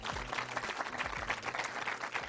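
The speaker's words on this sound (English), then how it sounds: "Big round of applause for the filmmaker here." Applause from a seated audience greeting a filmmaker at a special screening, steady dense clapping throughout the short stretch, moderately distant.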